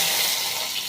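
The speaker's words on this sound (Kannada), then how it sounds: "ನೋಡಿ ಈ ಥರ ಚಟಪಟ ಸಿಡಿಬೇಕು" Mustard seeds spluttering in a spoonful of hot oil for tempering, a dense continuous crackle and sizzle, close and fairly loud throughout, with no voice.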